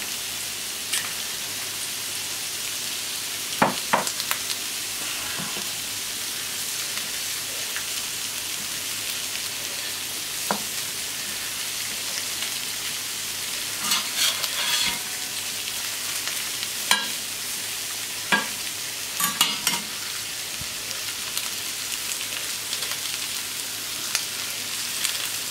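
Mushrooms and potatoes fry together in a pan, giving a steady close sizzle with scattered clicks and scrapes of stirring throughout, no voices.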